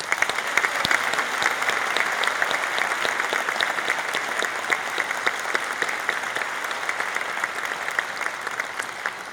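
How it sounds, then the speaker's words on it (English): Sustained audience applause in a university hall for Dr. Bonnie Schaefer, many hands clapping densely and steadily at full volume throughout with a faint murmur underneath. "Please join me in another round of applause for Dr."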